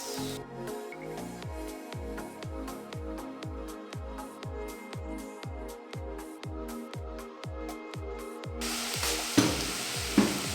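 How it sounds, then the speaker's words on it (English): Tomatoes go into a hot pot for Ugandan beef stew. A regular, rhythmic knocking-and-scraping pulse repeats for several seconds, then breaks into a louder, broad sizzle near the end, with no voices. "Now I'm going to add the tomatoes."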